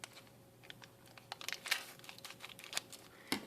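Scissors snipping into a plastic sauce packet from a Kracie Popin' Cookin' donut candy kit, a few quiet crisp crinkling cuts and rustles up close, with no talking.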